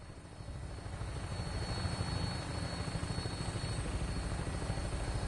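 Aircraft on final approach to an airport in Fallout 4, heard as a steady, loud rotor-like engine drone that swells slightly and holds throughout with a faint high whine, no voices.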